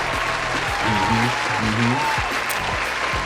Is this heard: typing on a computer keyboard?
no